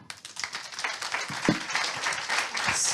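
Applause from a conference audience at a French export-insurance client meeting, a dense wash of many hands clapping steadily for about three seconds, fairly close and sustained.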